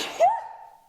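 One short sneeze bursts out near the microphone, a breathy rush followed by a brief voiced tail that fades quickly.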